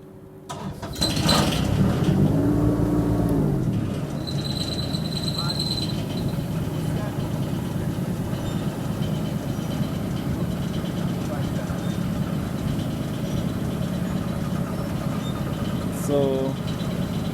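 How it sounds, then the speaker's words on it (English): A Kubota mini excavator engine cranks and fires near the start, then settles into a steady, loud idle that drones on for the rest of the clip, with a brief voice early on. "So I'm gonna start it up for you."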